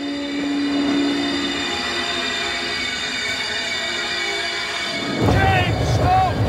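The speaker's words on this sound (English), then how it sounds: "this is how you drive a train" A train runs along rails in a staged stunt where its brakes have failed, giving a steady, loud rolling rumble with faint wheel squeal; near the end a rushing burst and high squealing tones rise sharply.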